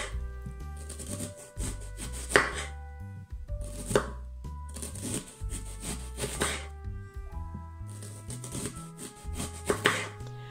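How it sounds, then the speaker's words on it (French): A knife slices an onion into thin rings on a board with close, crisp chopping strokes in quick bursts. Brief pauses separate the runs of cuts, and music plays underneath. "je détaille cet oignon en fines rondelles"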